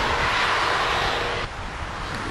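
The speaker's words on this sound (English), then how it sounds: "They're departing on runway 22 right now." Airplane departing on an airport runway, a broad steady engine roar heard from a distance, loud and continuous with a slight drop partway through, no voices.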